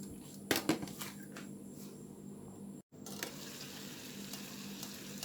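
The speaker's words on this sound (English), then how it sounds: "I'm gonna let this simmer a little more." Vegan bean, corn, okra and quinoa meal simmering in a covered pot, a steady soft bubbling hiss with a few clinks of the pot near the start and a brief dropout midway.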